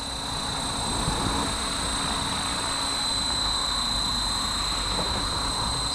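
A Blade Fusion 360 belt-driven RC helicopter, just repaired, flies on a test flight, its steady high-pitched rotor and motor whine droning continuously and evenly at a constant loudness throughout.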